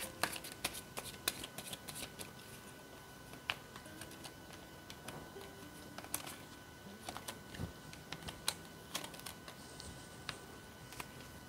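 Tarot cards are shuffled close by in quick, papery riffles and soft taps, repeating irregularly for about eleven seconds with no voice over them.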